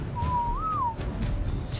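A single short whistle command sounds in ARK Survival Evolved, a clear tone rising briefly and falling, heard alone over a low game background rumble.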